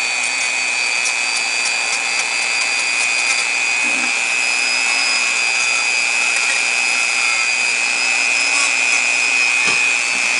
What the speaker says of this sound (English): I got a sanding tool on there, and you know, there's different levels, settings to the Dremel. I'm just going to put it on like 4.